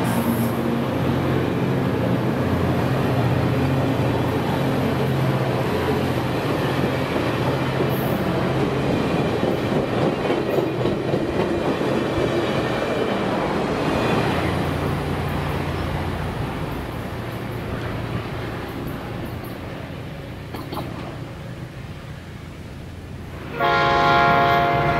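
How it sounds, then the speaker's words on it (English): An Amtrak Spirit of California train pulls out of Oakland's 16th Street station, a steady loud rumble of engine and rolling cars throughout, easing off near the end before a sudden burst of horn or brake noise. "The Spirit departs Oakland's 16th Street station."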